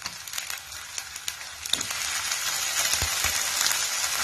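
About half a kilo of chicken hits hot oil with onions in a karahi, giving a steady, close sizzle and crackle with scattered sharp pops that grows denser and louder after the first couple of seconds.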